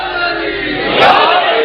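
A crowd at a Muharram religious gathering chants slogans together, a loud massed roar of voices that swells about a second in.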